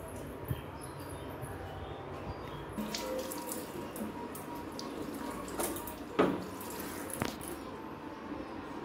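Water is poured during a soap and shampoo wash, with running, splashing sounds. Several sharper splashes and pours stand out in the second half.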